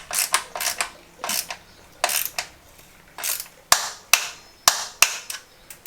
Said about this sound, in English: we're going to use the torque wrench with it being a carbon fibre frame